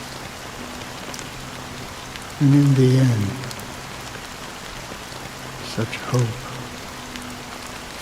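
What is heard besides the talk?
rain in Honkai: Star Rail cutscene, from a video game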